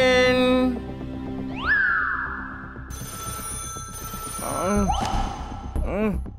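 A cartoon telephone rings, its bright, warbling electronic tones repeating over several seconds among sliding whistle-like effects and a busy animated soundtrack.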